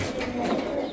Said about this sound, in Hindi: बावरा पंजाबी मलवई परिंदा ये है